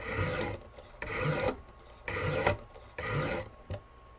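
Repeated sharpening strokes of a knife blade on a Wicked Edge sharpener's abrasive stones, four steady rasping passes in an even rhythm, close and moderately loud with no talking.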